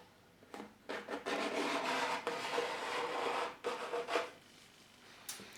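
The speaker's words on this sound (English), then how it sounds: "you can actually remove it whilst it's still wet using this shaped tool that is 90 degrees in the corner" Shaped 90-degree tool drags wet silicone sealant from a corner bead in a few close, soft scraping strokes separated by short pauses, with no talking.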